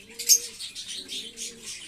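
Domestic pigeons cooing close by in a breeding loft during the rainy season, a few soft throaty coos in a short run with faint chirps, no talking.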